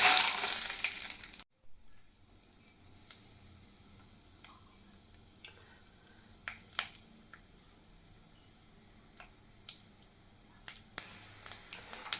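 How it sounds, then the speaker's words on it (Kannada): Peanuts and chana dal dropped into hot oil, a loud burst of sizzle at the start, then a low quiet crackle with scattered small pops and ticks. "ಎಣ್ಣೆ ಸ್ವಲ್ಪ ಬಿಸಿ ಆದಮೇಲೆ ನಾನಿಲ್ಲಿ ಕಡಲೆ ಬೀಜ ಮತ್ತು ಕಡಲೆಬೇಳೆ ಎರಡನ್ನೂ ಮಿಕ್ಸ್ ಮಾಡಿ ಹಾಕೋತಾ ಇದ್ದೀನಿ"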